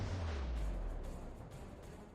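In World of Warships, a Kutuzov cruiser fires a salvo from its guns, heard as a deep booming blast at the start that rumbles and decays over two seconds, with faint crackling afterward.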